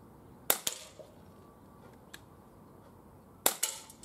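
Two sharp, snappy shots from an Umarex Walther PPQ M2 air pistol with a chain magazine and 55mm spring, fired at cans 15 metres away, the pair about three seconds apart with faint clicks between them.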